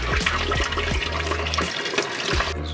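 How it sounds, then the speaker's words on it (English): Water from a garden hose gushes and splashes onto a person's face at an Arizona glamping site with an Airstream trailer. A close, steady rush of water is broken by several sloshing bursts, with no talking. "Just a little hose water to the face."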